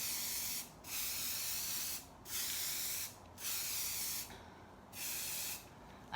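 Aerosol spray paint hissing out in five short bursts of light coats, each spray lasting about a second with brief pauses between, steady and close with no talking.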